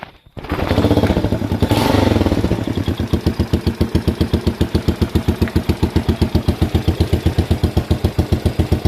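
A Postie bike motorcycle engine, freshly reassembled, starts with a loud roar and then settles into a steady, low, rhythmic idle with even thumping pulses, close and alone.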